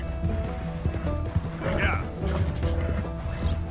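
Horse galloping in Red Dead Redemption 2, rapid low hoof thuds with clattering game sounds and brief whinny-like bursts, moderately loud and continuous over the short stretch.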